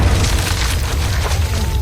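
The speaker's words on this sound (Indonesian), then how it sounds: "Ledakan itu membuat kaki dari Sersan Rommel terluka" A loud, deep grenade explosion in a Normandy landing war film, a boom with a heavy rumbling low end filling the whole moment, no voices.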